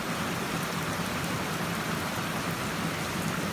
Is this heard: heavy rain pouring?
yes